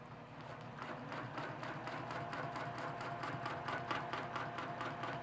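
A sewing machine stitches fabric for a quilt row, giving a fast, even run of mechanical stitching pulses, fairly quiet and steady with no talking.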